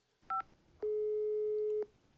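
A phone number is dialed in Office Simulator: two quick touch-tone beeps, then a single longer steady tone lasting about a second, clear against a quiet background.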